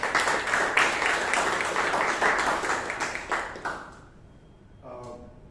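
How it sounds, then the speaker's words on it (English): Participants at a Bangalore Toastmasters meeting applaud the guest tag team, several people clapping unevenly for about four seconds before it fades to quiet room tone with a faint tone at the end. "So please give them a huge round of applause"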